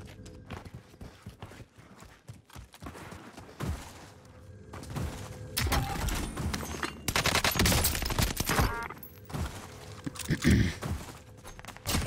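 Gunfire in the video game Warzone comes in repeated close bursts and scattered single shots, growing denser and louder in the second half, with footstep-like clatter between the volleys and no talk.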